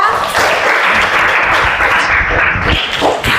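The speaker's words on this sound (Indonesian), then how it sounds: "Beri aplaus untuk teman-teman kita." A classroom full of students claps steadily in a loud, dense burst of applause that carries on without a break from start to finish.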